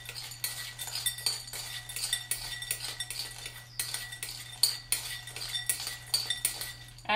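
Mini chocolate chips lightly stirred and tossed in a bowl while making cream cheese-filled chocolate banana bread, giving a steady run of small clinks and scrapes up close, with no talking.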